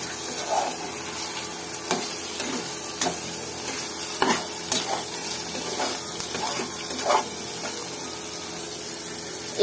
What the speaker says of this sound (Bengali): সবগুলো মাংস দিয়ে এবার মশলার সাথে খুব ভালোভাবে কষায় নিতে হবে।